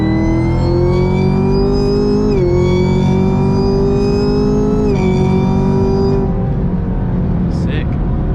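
A 6th-gen Camaro ZL1 accelerating hard from warm, a loud close engine roar climbing in pitch through two quick gear shifts before easing off at the end.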